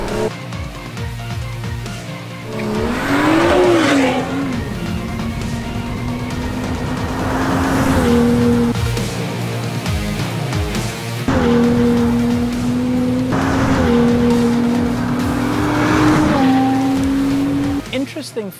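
A BMW M2 and an Audi RS3 launch side by side in a drag race. Loud engine revs climb and fall in repeated surges as the cars pull away, with a steady drone underneath the whole time.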